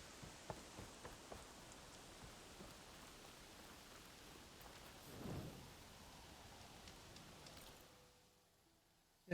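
Steady rain patters softly in Horizon Forbidden West with a low rumble of distant thunder swelling briefly in the middle, all fairly quiet, before fading out near the end.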